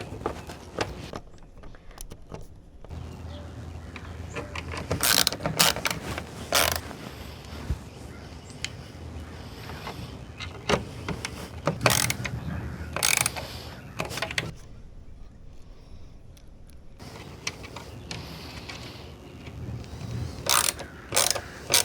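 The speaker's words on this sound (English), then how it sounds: "After we installed these last 4 screws" Mounting screws being driven into a Toyota RAV4 dash radio unit, heard as scattered close ratcheting and clicking bursts with short pauses, no talking.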